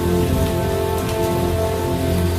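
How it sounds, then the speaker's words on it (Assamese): A sudden, unseasonal rain shower pours down in a steady, dense hiss of drops striking surfaces, loud and close throughout with no voices. "হঠাৎ নামি আহিলে এজাক আবতৰীয়া বৰষুণ"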